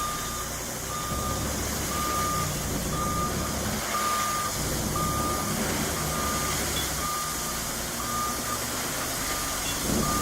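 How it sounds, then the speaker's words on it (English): A reversing truck spreading gravel on a work site gives off steady, evenly spaced backup beeps over a loud, continuous engine rumble and grinding noise, with no voices. "This driver is so skilled that he managed to spread gravel from the truck in reverse."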